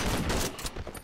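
Shotgun blasts in the horror game Cry of Fear, heard as a dense, loud burst of gunfire-like noise over about a second with no talking.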